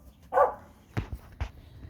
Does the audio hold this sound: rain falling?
no